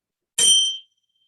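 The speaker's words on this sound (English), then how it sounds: "The clarity of the bell, beautiful, ringing through" A meditation bell is struck once at the start of a restorative yoga and yoga nidra session, a bright, clear ding that rings briefly and fades out quickly into silence.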